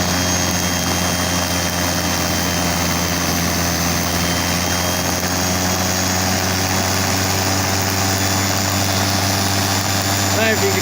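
A salvaged washing machine motor runs loudly and steadily under test, a sustained droning hum with strong low harmonics and a continuous roar throughout, with a brief knocking near the end.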